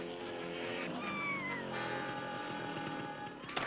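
A cat meows in a Batman video game, a single drawn-out wavering cry over a busy game music backdrop, moderately close.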